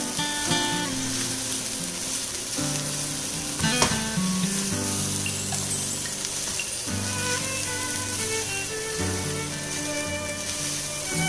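Chicken fried rice sizzles and fries in a pan as it is stirred, with a continuous loud hiss and scraping throughout, overlaid by steady background music and no talking.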